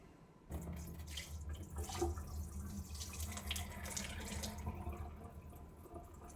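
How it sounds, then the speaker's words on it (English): A hand swirls rice around in a bowl of water, close and steady sloshing and trickling with a running-tap quality, continuous for several seconds. "Swirl my hand around in the rice."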